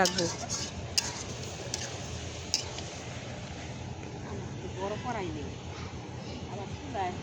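Taro curry is stirred in a pot on a clay stove, giving soft scraping and occasional light clinks of the spoon against the pot under quiet talk and a low background hiss.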